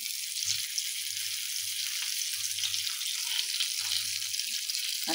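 Surmai kingfish frying in a pan, a steady broad sizzle and hiss with a faint intermittent low hum underneath, no talking.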